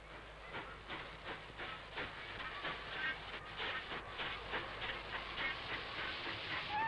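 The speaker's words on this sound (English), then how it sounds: "After a couple of hours stop here, we move on again, drawn by a steam locomotive." Faint, steady rumble and rhythmic clickety-clack of a steam-locomotive-drawn train on the Trans-Siberian Railway, with a soft hiss under the regular wheel beats.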